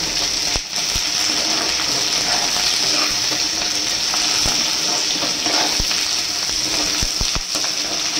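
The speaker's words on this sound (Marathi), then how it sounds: "आता तुम्हाला हे भाजून दाखवते मी." Spices roasting in a pan for a Saoji-style mutton paya masala give a steady close hiss and crackle, with occasional sharp clicks from stirring.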